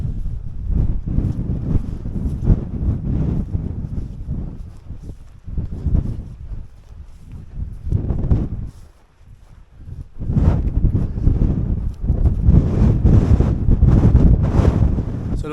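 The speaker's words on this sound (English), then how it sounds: "the wind's definitely picked up a bit" Strong wind gusting across a hilltop ridge in the Yorkshire Dales, roaring and buffeting the microphone in heavy, continuous rushes with a short lull midway before blowing hard again, no voices.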